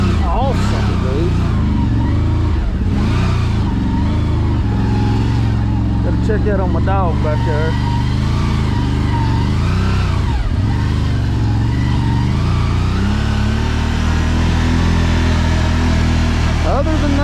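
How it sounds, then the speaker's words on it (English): A 2023 CFORCE Overland ATV engine runs loud and close during a ride, its drone rising and falling as the throttle opens and closes, while someone talks over it throughout. "The engine braking on this is a little violent."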